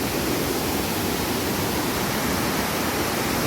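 Kattikayam waterfall heard from its base, a dense, steady roar of falling water filling the whole scene close up, unbroken and loud with no voices.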